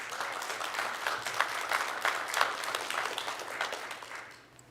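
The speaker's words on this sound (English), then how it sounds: "I thought they deserved a round of applause before we start anything else" Moderate round of clapping from attendees at a school board budget meeting, even and sustained for a few seconds before fading out.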